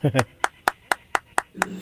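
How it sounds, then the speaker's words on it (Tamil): Six evenly spaced single claps ring out close and dry after a brief bit of speech, a slow rhythmic beat rather than full audience applause. "எல்லாரும் சேர்ந்து அவருக்காக கைத்தட்டுவோம்"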